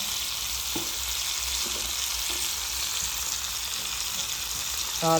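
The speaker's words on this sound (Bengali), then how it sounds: "আমাদের মাংস ভাজা হয়ে গেছে প্রায় এবার আমরা এর মধ্যে দিয়ে দেব একটা কুচানো পেঁয়াজ" Pieces of chicken fry in hot oil as chopped onion goes in, a steady soft sizzle with faint scraping taps from stirring, ending with a short bright clink.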